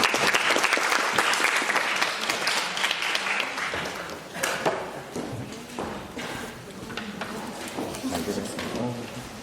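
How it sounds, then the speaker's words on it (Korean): Sustained audience applause in a lecture hall welcoming a journalist giving a talk on fake news and fact-checking, dense steady clapping filling the room with a few voices mixed in. "큰 박수로 맞이해 주시길 바랍니다."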